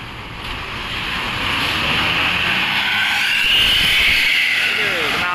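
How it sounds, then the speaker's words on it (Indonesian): A bus on the Kuningan–Cirebon–Jakarta route passes by with a noisy exhaust, a steady broadband roar that swells as it draws near, heard outdoors by the roadside under faint voices. "Knalpotnya berisik ini."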